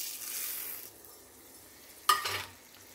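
Urad dal and asafoetida frying in hot oil for pulikachal: a soft sizzle that fades, then a sharp burst of sizzling as more goes into the pan, fairly close and quiet.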